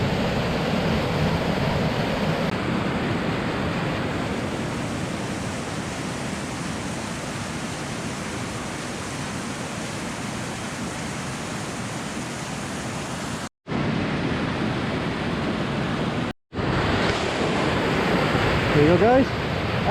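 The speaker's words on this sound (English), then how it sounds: "Epic waterfall." A huge waterfall in Snowdonia, North Wales roars as a steady, dense wash of broadband noise, broken by two brief dropouts, with faint wind buffeting the microphone.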